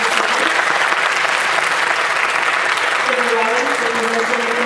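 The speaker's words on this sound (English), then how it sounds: "let's give Robin another big round of applause" Dense audience applause for a speaker, steady and loud throughout, with a voice beginning to speak over the clapping near the end.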